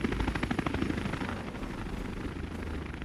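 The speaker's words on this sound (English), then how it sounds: "Helicopter." Rapid chopping rotor thump of a helicopter in a Minecraft dinosaur addon, loud and steady for the whole stretch with a pulsing beat that smooths into a continuous drone.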